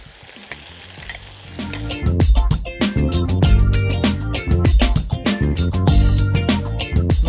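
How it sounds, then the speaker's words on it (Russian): Loud sizzling of onions frying in hot oil in a kazan, with repeated scraping and stirring clatter throughout, close up and without talking. "Отправляем жариться сюда лук."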